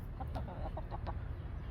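Several chickens cluck softly in short, scattered calls at the edge of their coop in winter, fairly quiet over a steady low background rumble.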